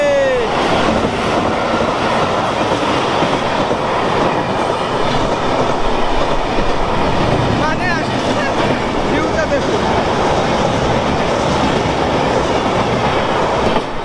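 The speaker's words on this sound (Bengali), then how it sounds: "এই যে আমাদের ট্রেন, এই যে একটা ট্রেন যাচ্ছে" A train running along the rails in Assam, Northeast India, a steady loud rumble with rhythmic clatter throughout, under a voice speaking briefly.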